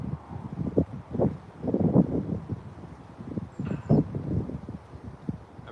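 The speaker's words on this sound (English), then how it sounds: "A very windy Preston" Strong wind near Preston, Lancashire, blustering in irregular gusts that batter the microphone with loud, low rumbling bursts, rising and falling throughout, with a faint metallic clang near the end and no talk.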